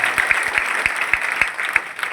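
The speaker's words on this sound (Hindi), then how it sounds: "एक बार फिर से जोरदार तालियां।" A school audience at an upper primary school's Independence Day celebration applauds a sixth-grade student performer with scattered, uneven hand claps. The applause is moderately loud, close by and fairly sparse.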